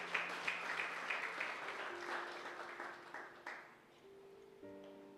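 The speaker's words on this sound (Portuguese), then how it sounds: "Dê mais um aplauso a Jesus." Church congregation applause during a worship service, fairly faint and thinning clapping that tapers off, with a sustained keyboard tone entering underneath toward the end.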